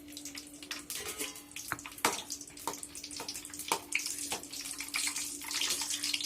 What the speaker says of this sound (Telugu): ఇప్పుడు ఈ ఆయిల్లోకి పచ్చిమిర్చిని వేసి ఫ్రై చేద్దాం.